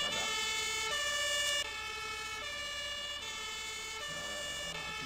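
A fire engine siren in the game Emergency 4 wails loud and steady in a repeating two-tone pattern, alone and up close throughout.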